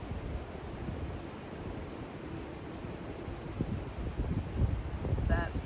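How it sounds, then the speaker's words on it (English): Strong wind roars steadily across an Appalachian Trail campsite in woods with many dead trees, a loud, continuous rushing gust that swells toward the end. "That's some wind."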